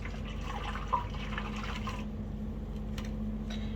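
A stirred, strong-smelling liquid paper dye mixture is poured into a container, giving a soft, continuous trickling and splashing over a low background hum, with a brief clink near the start and no talking.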